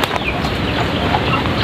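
Native chickens clucking steadily at close range, a busy farmyard murmur with no talking.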